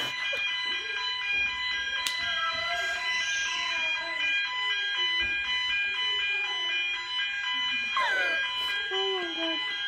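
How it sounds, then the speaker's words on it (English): A continuous, high-pitched electronic fire alarm drones steadily throughout during an alarm test in a building, with people talking faintly underneath and occasional clicks and bumps nearby. "I think they're going to put the fire alarms on and then they're going to test them"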